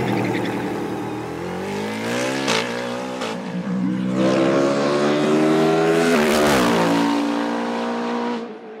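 A Tatuus Formula Master race car climbs a hill course, its engine screaming loud and close with rising pitch through the gears, brief dips at each upshift, then fading at the end.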